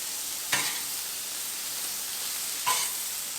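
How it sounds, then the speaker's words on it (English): Shrimp sizzle on a hot Blackstone griddle in a steady, soft hiss, broken twice by short louder bursts of sizzling or scraping. "I'm going to go ahead and put my shrimp down."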